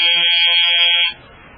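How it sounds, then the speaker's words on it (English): A flat electric buzzer sounds loudly and steadily for about a second before cutting off abruptly, leaving a faint hiss behind, as part of a radio drama scene. "The 3 of us waited until the buzzer sounded."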